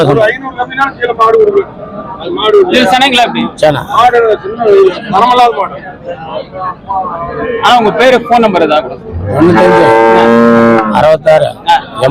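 Pregnant HF and Jersey cows at a cattle market in Morepalayam give a long, loud moo near the end, over steady crowd chatter and nearby voices.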